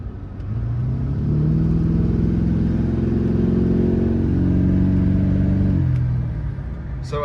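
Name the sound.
diesel truck engine revving hard from idle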